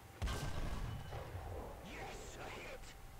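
A tank cannon fires in War Thunder ground battle, one sharp, heavy boom near the start followed by rumbling decay, with someone talking over the aftermath.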